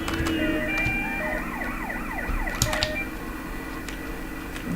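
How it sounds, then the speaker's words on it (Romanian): Video game police sirens in GTA wailing, rising and falling in quick overlapping sweeps over a steady engine-like drone, loud and continuous. "să nu reacționăm prea tare cu sirenele astea."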